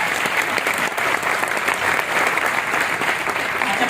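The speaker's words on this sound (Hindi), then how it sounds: "जोरदार ताली आप सभी लोगों के लिए भाई" Loud, dense applause from a large audience at a direct-selling company speech event, steady clapping filling the whole stretch without pause.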